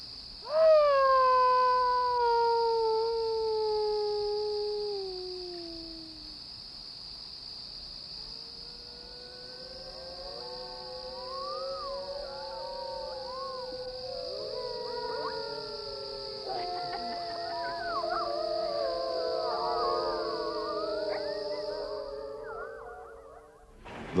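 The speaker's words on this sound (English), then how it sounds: "A wolf howl in one of Ontario's largest and most famous parks" Wolves howl in Algonquin Park, Ontario: long, sliding, mournful cries that overlap and rise into a chorus of several voices, heard alone over a steady, high insect drone.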